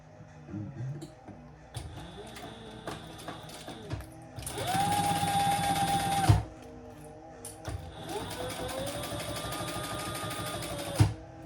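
A sewing machine top stitching a triple-zipper crossbody bag, running in two sustained bursts of rapid mechanical stitching separated by pauses with faint handling clicks and small sounds of fabric being moved.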